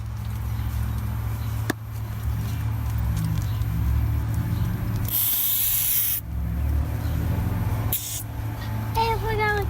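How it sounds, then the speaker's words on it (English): A sprayer sends chemical weed killer onto clover in two hissing bursts: one lasting about a second, then a short one. Both rise over a steady low background hum. "I'm spraying chemicals to kill Clover."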